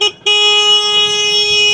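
A vehicle horn sounds outside a school at pickup time: one short toot, a brief gap, then a long steady blast held loud and close to the end.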